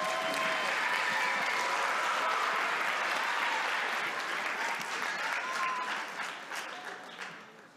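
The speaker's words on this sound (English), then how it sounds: "How about another round of applause for our band students?" An elementary school winter concert audience applauds the band students with sustained, dense clapping that holds steady for several seconds and then gradually tapers off.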